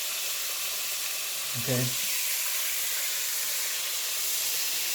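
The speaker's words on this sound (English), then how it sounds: "this has been frying for about 2 or 3 minutes" Chicken fried steak sizzles in hot oil with a steady, bright hiss throughout, and a brief spoken word rises over it midway.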